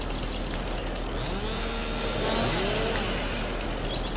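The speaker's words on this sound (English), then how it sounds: "chainsaw." Chainsaw in Farming Simulator 22, cutting firewood on a Missouri farm. A steady, fairly quiet buzzing motor drone carries throughout, with a whining tone that rises and falls slightly, and no talk over it.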